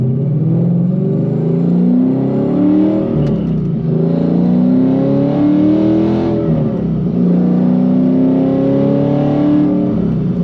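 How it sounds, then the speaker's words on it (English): Ford Mustang GT fitted with Kooks headers and a Steeda intake revving hard on a dyno, a loud continuous engine roar with rising and falling pitch sweeps as the throttle climbs, close and unbroken throughout. "But the headers do sound really good."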